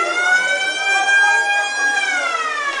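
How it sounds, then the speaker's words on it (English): A school break siren wails steadily with a sustained, slightly wavering electronic tone, fairly loud and continuous, with no talking over it. "Here's where that siren is."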